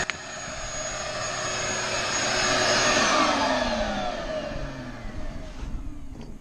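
A homemade shop vacuum built from a 55 gallon drum with a 6 peak horsepower motor roars steadily and loudly, swelling mid-run with a whistling airflow tone, then winding down near the end.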